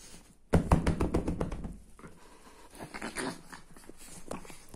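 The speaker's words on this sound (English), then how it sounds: "Dog." A dog makes a burst of sharp barks or yaps up close for about a second and a half, followed by quieter rustling and faint scuffling sounds.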